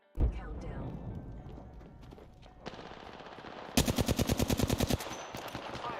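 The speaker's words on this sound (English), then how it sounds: "Opening fire on the enemy." Rapid automatic gunfire in the shooter game Apex Legends, starting with a loud blast and chaotic combat noise, then a fast burst of evenly spaced close shots near the end.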